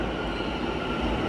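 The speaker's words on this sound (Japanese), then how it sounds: "さあ電車来るかな。" A train rolls into a station in Almaty, Kazakhstan, with a loud, steady low rumble and roar that stays close and unbroken throughout.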